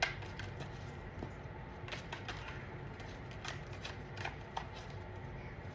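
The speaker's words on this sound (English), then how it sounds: "These are hard to shuffle." A deck of tarot cards is shuffled in a steady run of crisp riffling clicks and flutters, close and fairly quiet, with no talk.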